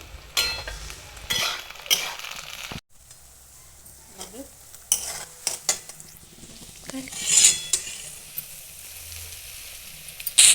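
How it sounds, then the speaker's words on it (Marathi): Onion and tomato sizzle gently in a wok while a spatula scrapes and clinks against the pan in irregular stirring strokes. "या कढईमध्ये आपण कांदा परतण्यासाठी घातलेला आहे"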